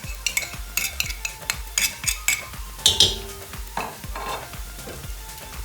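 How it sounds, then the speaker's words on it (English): Potato and fenugreek cooking with spices in a pan, sharp metallic clacks and scrapes of a spoon stirring in an irregular rhythm over a light sizzle, close and clear, with no voices. "Now give it a nice mix."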